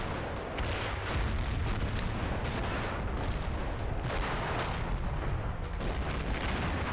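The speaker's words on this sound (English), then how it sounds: "a good time actually to have mortar rounds landing in this area, even if they are comically off target" Mortar rounds landing in the wargame Combat Mission Black Sea, a dense, rumbling series of distant booms and blasts rolling on without pause over a heavy low roar.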